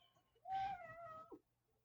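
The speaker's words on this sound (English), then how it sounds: "I don't know if you just heard my cat." A house cat gives a single drawn-out meow, rising then gently falling, heard close by in a quiet room with faint background hum.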